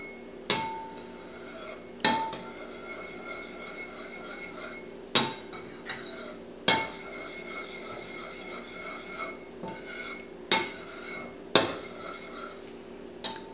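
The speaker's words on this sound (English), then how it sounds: "And then we can stir this all together." A utensil stirring wasabi ketchup in a bowl, giving sharp clinks against the dish at irregular intervals with quiet scraping between, close and alone.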